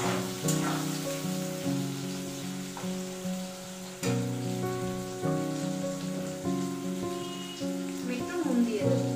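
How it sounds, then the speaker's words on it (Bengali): Onions fry in a hot pan for a Bengali rainy-day egg curry, giving a steady close crackling sizzle with faint stirring scrapes throughout and no talk over it. "পেঁয়াজটা একটু লাল লাল করে ভেজে নেব।"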